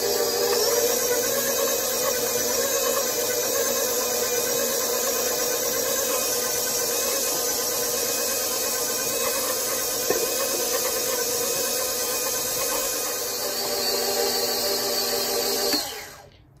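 An electric mixer beats cookie dough with vanilla and eggs for chocolate chip cookies, a steady loud motor whir with hissing beaters running continuously before cutting off at the end.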